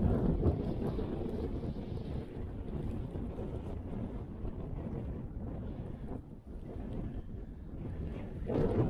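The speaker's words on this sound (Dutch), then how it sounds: "Windstoten tot 60 km per uur." Strong gusting wind in a Dutch snowstorm, around force 7 with gusts to 60 km/h, roars and buffets the microphone in a continuous low rumble that swells and dips, with no talking.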